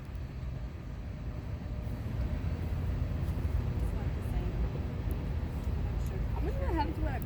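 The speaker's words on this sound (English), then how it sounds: "Well, that's another train that just passed by." A Union Pacific loaded ballast train hauled by ES44AC, AC4400 and SD70M-type locomotives rumbles past steadily at moderate distance, a continuous low roll of wagons with faint squeals toward the end.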